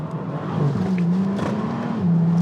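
A Bentley Continental GTC Speed with a 6.0 W12 biturbo engine pulls uphill on the Transfăgărășan road, a steady loud drone whose pitch climbs, dips at a shift and climbs again, heard from inside the car with no talking.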